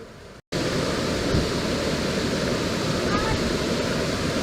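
A waterfall at Sentul after rain, a dense, steady roar of rushing water heard close up that fills the scene after a brief gap.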